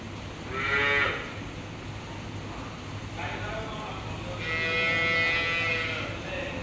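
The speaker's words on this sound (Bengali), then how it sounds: "গরু সবে মাত্র বিয়ান দিছে তো এই জন্য একটু লড়াচড়া করতেছে" A dairy cow that has just calved moos on a farm, giving one short low call and then a longer drawn-out moo, both fairly close and loud over steady barn background noise.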